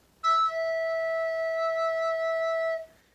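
A single sustained recorder note played with three left-hand fingers plus thumb and two right-hand holes covered, a clear pure whistle-like tone held for about two and a half seconds, alone and fairly soft.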